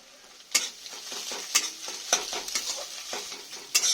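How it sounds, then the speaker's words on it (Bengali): Chopped snake gourd seasoned with salt and turmeric sizzles in a pan while a utensil stirs and scrapes it, giving sharp periodic clinks over a continuous close frying hiss. "দিয়ে আমি এটাকে একটু ভেজে নেব"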